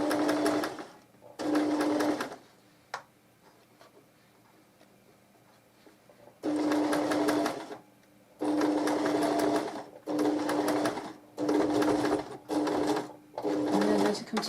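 A sewing machine stitches a zip onto a knitted cardigan in a series of short, close bursts separated by brief pauses, with a faint click between runs and a final run of quick reverse stitching.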